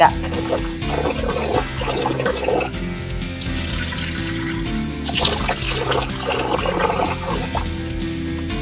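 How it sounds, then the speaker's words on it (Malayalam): Water pouring and sloshing over rice and urad dal as they are washed for appam batter, a continuous close splashing and gurgling with swells of rushing water, no speech. "ഇനി നമുക്കിതിൽ വെള്ളം ഒഴിച്ചിട്ട് അരിയിൽ തന്നെ ഇട്ടോളൂ എന്നിട്ട് നമുക്ക് ഇതൊന്ന് നല്ല പോലെ കഴുകിയിട്ട്"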